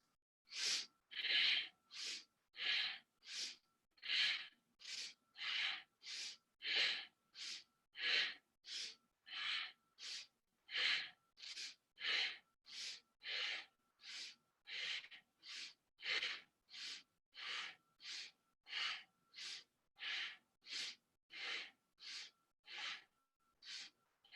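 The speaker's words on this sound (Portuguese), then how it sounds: "mantendo uma respiração ainda poderosa, uma respiração pelo nariz" Forceful rhythmic nasal breathing during a Kundalini yoga class, about thirty sharp, evenly spaced breaths in steady succession, close and loud with no talking.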